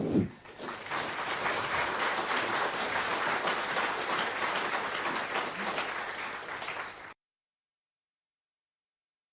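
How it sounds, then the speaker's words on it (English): Audience applause at a public question-and-answer meeting with a Scottish Socialist Party candidate in Edinburgh South, a sustained even burst of clapping from a room of people lasting about seven seconds before cutting off. "So, first of all, let's give them a round of applause for turning up."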